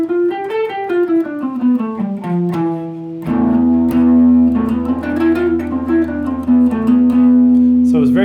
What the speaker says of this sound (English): And so the sound of the Phrygian scale sounds like this.